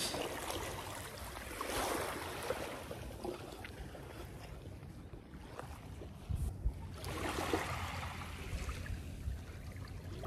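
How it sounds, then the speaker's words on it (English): Ocean surf at Hellshire Beach, Jamaica, broad washing waves rising and falling at a moderate distance, soft and steady with wind-like hiss and a few faint knocks. "We made it to the beach."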